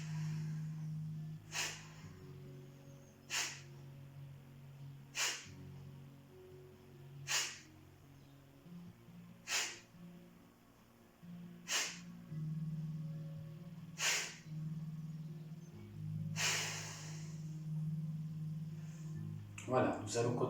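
Yoga class participants take deep breaths, about nine audible exhales spaced roughly two seconds apart, soft and breathy over a low hum, with a final louder breath at the end.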